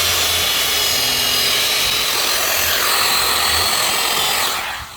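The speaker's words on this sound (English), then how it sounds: "it's time to drill in the hole for the screw" A power drill bores a screw hole into a 2x4 of wood, giving a loud, continuous whirring grind that holds steady for several seconds and then winds down at the end.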